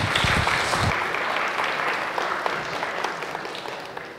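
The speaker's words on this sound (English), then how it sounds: "So please give him a round of applause." An audience at a tech talk applauds a speaker, with a burst of loud clapping at first that settles into steady applause and slowly fades.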